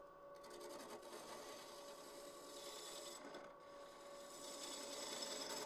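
Open-mesh router pad rubs against a cherry burl bowl spinning on a lathe, a faint, steady rasping drone under the lathe's hum.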